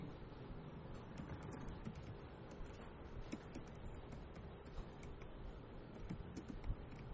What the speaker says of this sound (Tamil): நான் இங்கேயே டைப் பண்ணி போட்டுறவங்களுக்காக உங்களுக்காக